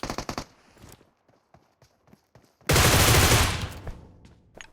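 Automatic gunfire in the mobile battle royale game PUBG Mobile: a quick volley of shots, then a sparse stretch, then a dense, loud sustained burst lasting over a second before it fades.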